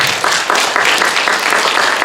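A group of sixth-grade students applaud together at a school assembly, loud close clapping in rhythmic surges that stays dense for the whole stretch, with no talking over it.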